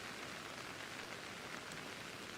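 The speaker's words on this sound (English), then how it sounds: "Oh, now it's heavy rain." Heavy rain in the video game Pokémon Legends: Arceus, a dense, constant hiss of downpour and pattering drops that holds steady throughout, with no voices.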